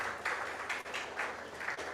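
An audience at an advertising conference claps in steady, rhythmic waves of moderate loudness, with no talk over it.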